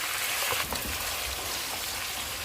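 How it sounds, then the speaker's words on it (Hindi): Chicken frying in hot oil over high heat, a steady dense sizzle with a crackling texture that holds evenly from start to finish. "चिकन को हम तेज़ आंच पे फ्राई करेंगे।"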